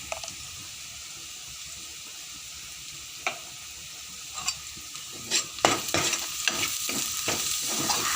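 A turmeric mixture being stirred in a pan: a quiet low hiss at first, then scattered scrapes and clinks that grow into busy, denser stirring and sizzle over the last few seconds, close and without speech.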